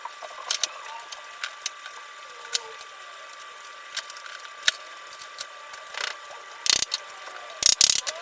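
Parallel clamps are tightened on glued wooden boards, making sharp, scattered ratcheting clicks at an irregular pace, with a few louder clustered clacks near the end, close by and with no talk.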